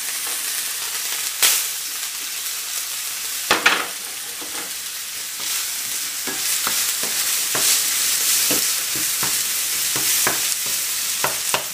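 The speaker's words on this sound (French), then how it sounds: "j'y ajoute la viande. Je vais ajouter l'oignon." Meat and chopped onion fry in a pan for Sicilian arancini filling, a steady close sizzle broken by sharp stirring clicks and scrapes, with no talking.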